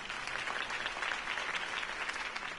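Crowd applause in the Batman Telltale video game following a campaign speech, a brief burst of dense clapping at moderate level, heard alone with no talk.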